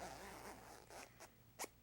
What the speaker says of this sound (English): now you can go ahead and zip that zipper back up.